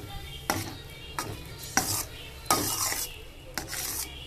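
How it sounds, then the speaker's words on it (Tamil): Fenugreek kali is stirred with sesame oil in a pan, giving close, rhythmic scraping strokes, roughly six in a row, each with a soft utensil knock against the metal and no voices. "நல்லெண்ணெய் ஊற்றி நல்லா சுருள கிண்டணும்"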